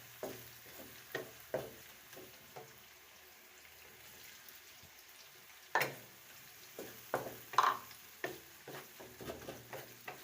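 Two medium tomatoes cooking in a pan with light-brown fried onions for fish curry, giving a soft steady sizzle with scattered stirring clinks and scrapes, quiet and close.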